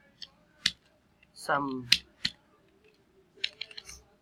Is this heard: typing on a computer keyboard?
yes